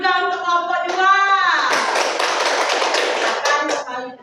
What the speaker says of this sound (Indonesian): beri tepuk tangan juga untuk kelompok 2